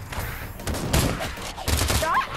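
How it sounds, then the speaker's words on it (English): Shotgun blasts in the VR shooter Pavlov, several loud close booming shots in quick bursts mixed with game noise. "Shotgun!"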